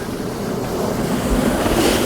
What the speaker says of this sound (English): There's some quite big waves coming in.